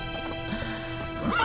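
Horse hooves in The Witcher 3: Wild Hunt, a clip-clop of a horse moving with a neigh near the end, set against a steady bed of game music and ambience.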